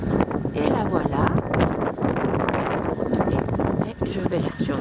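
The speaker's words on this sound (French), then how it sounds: "il y a beaucoup de vent" Strong wind blows outdoors on a cold day, a continuous loud gusting roar buffeting the microphone with rough rustling bursts; a voice seems mixed in beneath it.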